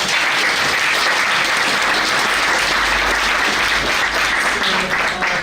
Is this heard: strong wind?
no